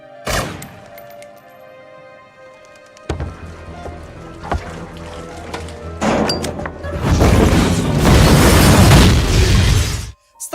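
A large explosion goes off in a Punisher action film, with a sharp blast building into a loud, sustained roar of debris and fire that ends abruptly.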